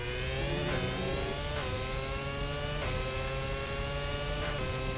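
A Williams FW31 Formula One car in Assetto Corsa screams at high revs, a loud constant whine that dips briefly with each of four quick upshifts before climbing again.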